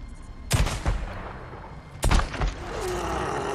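Gunshots in the Days Gone video game, two loud sharp blasts about a second and a half apart, each followed by a brief echoing tail over a low game ambience.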